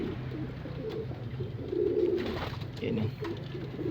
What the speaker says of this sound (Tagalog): nandito na yung mga ibon natin